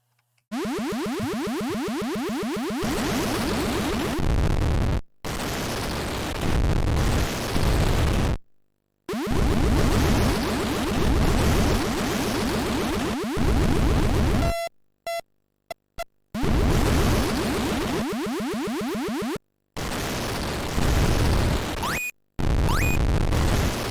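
Missile explosions in the Missile Command arcade game, harsh, noisy blasts in long loud bursts cut by abrupt silences, with a few short pops between them.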